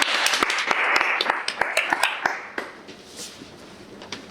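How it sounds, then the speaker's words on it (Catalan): Studio audience on a Valencian talk show clapping, a quick burst of sharp claps in the first couple of seconds that thins out and fades into quiet room noise. "Un aplaudiment."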